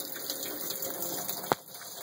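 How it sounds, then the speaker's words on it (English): Stop bath chemical poured from a tray back into its storage container during home film developing, a steady close trickle of liquid with one brief clunk near the end. "You just pour it right back in."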